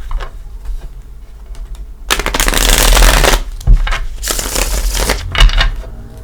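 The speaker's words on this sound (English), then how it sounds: "Let's give them a couple shuffles." A quiet start, then bursts of rapid riffling and flapping as a deck of tarot cards is shuffled up close, several times in succession.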